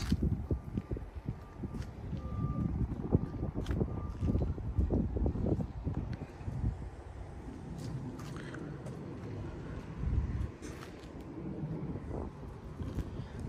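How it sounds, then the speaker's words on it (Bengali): Gusty outdoor wind buffets the microphone in low, uneven rumbles, stronger at first and easing later, with no clear talking. "বাট ভালো লাগছে, এত সুন্দর বাতাস"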